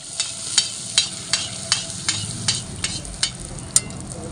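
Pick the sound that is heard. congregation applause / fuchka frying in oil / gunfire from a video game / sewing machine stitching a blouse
fuchka frying in oil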